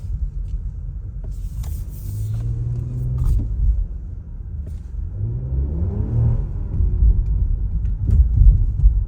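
A 2024 Toyota Camry XSE V6 engine is revved twice, each time a smooth, muted rise and fall in pitch over a steady low rumble, quiet and refined rather than loud.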